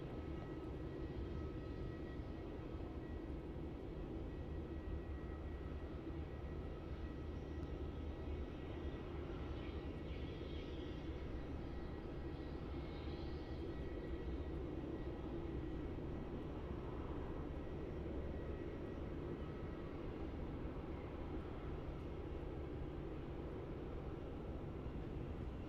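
Boeing 787 at Melbourne Airport, a steady broad engine roar that holds loud and even throughout with no talk over it.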